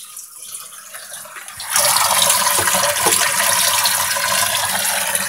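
Water from a jug pours into a new fish tank, a loud, close splashing gush that starts abruptly after a quiet moment and continues steadily to the end.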